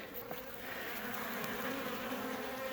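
Honeybees buzz steadily and up close around a caged queen in a queenless hive, a dense, continuous drone with workers fanning, no voices heard.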